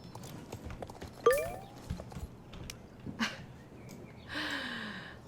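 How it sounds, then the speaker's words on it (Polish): Horse hooves clip-clopping in the horse-riding video game Star Stable, soft steady hoof steps at moderate distance with a brief whinny-like tone and a faint snort near the end, no speech. "Ale jej koń ładnie skacze, a mój tak nie skacze."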